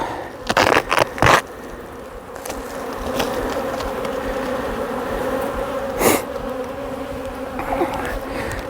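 Honeybees swarm agitated around a lifted hive, a dense steady buzz filling the air close by, with a few louder bursts as bees fly right past.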